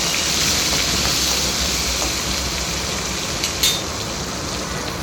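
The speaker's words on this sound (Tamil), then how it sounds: "இப்போ சின்ன வெங்காயம், பூண்டு, பச்சை மிளகாய், கருவேப்பிலை சேர்த்து நல்லா ஃப்ரை பண்ணி எடுத்துடலாம்" Shallots, garlic, green chilli and curry leaves fry in hot oil for a karamani kara kuzhambu, giving a steady, dense sizzle that hisses on without pause.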